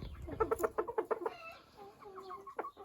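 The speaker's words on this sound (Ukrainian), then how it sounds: "Це стоїть 5 півнів в одному місці." Several chickens cluck in quick, uneven bursts close by, followed by drawn-out crowing calls from five roosters standing together, with no talking.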